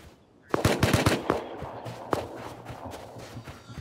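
Gunfire in the survival video game Rust, a quick burst of several close, sharp shots followed by a few scattered single shots and softer thuds, with faint background game noise and no talking.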